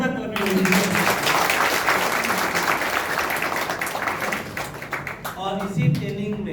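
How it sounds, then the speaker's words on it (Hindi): Loud audience applause at a leadership training session, a dense wash of many hands clapping that lasts several seconds, with a voice just before and after. "एक बार मैडम प्लीज जोरदार तालियां बजाइए।"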